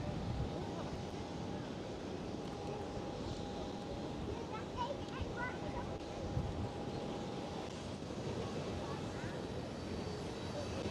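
A Cathay Pacific Airbus A350-1000 on Schiphol's runway 18 left, its jet engines a steady, broad roar that holds for the whole span with no break, with a faint thin whine above it.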